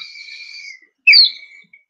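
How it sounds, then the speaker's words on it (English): A water-filled bird whistle blown in two short bursts, each a warbling, bubbly whistle, with a brief gap of silence between them. "it's a bird and you put the water in it and then you blow on it"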